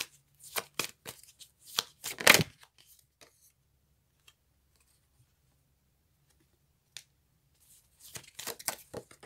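Tarot cards are shuffled close by in short, quiet riffling and slapping bursts, first a cluster of several, then a long silent pause, then another brief flurry at the end.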